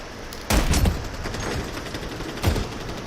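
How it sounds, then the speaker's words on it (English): Video game gunfire in a multiplayer shooter: two short bursts of rapid shots, one near the start and another about two seconds later, with a rumbling tail in between, fairly close and moderately loud, without voices. "Are they shooting at my stuff?"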